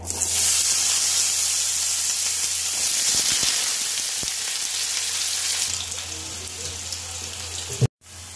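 Oil crackles and sizzles steadily as small chopped potatoes fry, a bright continuous hiss with a few soft knocks, ending in an abrupt clatter.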